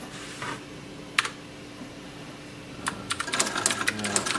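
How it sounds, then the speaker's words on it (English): A Royal Officemaster 2000 daisy wheel printer converted into a typewriter types, with a few isolated strikes early, then a quicker run of clacking keystrokes and mechanical chatter building toward the end, fairly faint and close. "But now let's try some typing."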